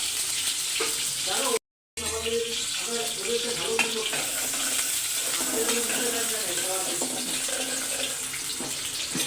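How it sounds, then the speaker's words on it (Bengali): Steady, dense sizzling of onions frying in hot oil, continuous throughout with a brief cut near the start. "কিছুটা পেঁয়াজ ভেজে নিব"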